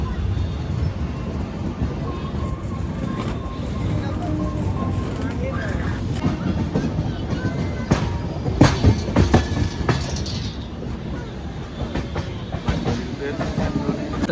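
A passenger train runs on an Indian line between Delhi and Vijayawada, heard from inside a crowded general class coach as continuous rumbling and wheel clatter with occasional clanks, with people talking over it.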